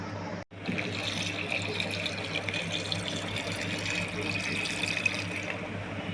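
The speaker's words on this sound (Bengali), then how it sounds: "এবার আমি পরিমাণ মতন এটাতে জল দিয়ে দেবো।" Water runs steadily from a tap into a pot of khatti dal with Bengali badi, a continuous close trickle and splash that stays even throughout, with no talking.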